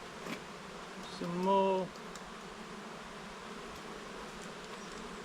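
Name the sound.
honeybees buzzing around an open hive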